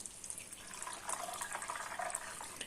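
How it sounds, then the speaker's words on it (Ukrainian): Filtered water pours steadily into a container for a smoothie, making a soft, continuous splashing trickle at close range with no voices. "тому я додаю воду"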